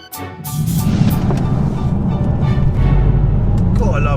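A diesel car engine accelerating hard, a loud, steady low rumble that holds throughout and swells slightly toward the end.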